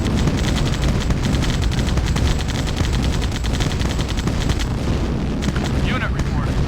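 Gunfire hammers at a SAM site during a Command and Conquer GDI campaign mission, a dense unbroken barrage of rapid shots and booms lasting the whole stretch with steady loudness.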